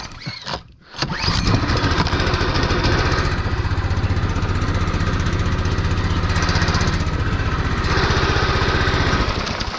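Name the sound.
old motor running on a fishing boat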